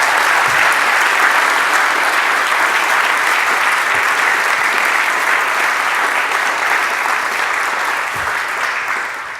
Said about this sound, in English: I please ask you to give them the biggest round of applause so we can get started.